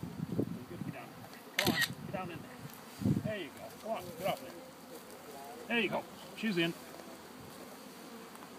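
Honeybees buzz around a queen cage during a package bee installation, a steady insect hum under intermittent nearby speech and a few sharp clicks.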